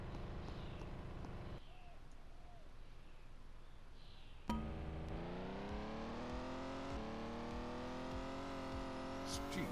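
Engines of racing cars in the video game Poly Party rise in pitch as they accelerate, with a sudden jump to louder revving partway through.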